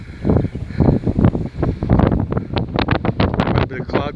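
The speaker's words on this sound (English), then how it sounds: "It's gotten a lot windier up here." Strong wind on a mountain hike buffeting the microphone in loud, gusty rumbling bursts that rise and fall continuously, with heavy low-end roar close up.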